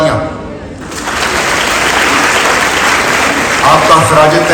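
An audience applauds at a live tribute event honouring police martyrs and their families: a sustained, dense wash of clapping that swells after a short opening and continues loudly, with some voices mixed in.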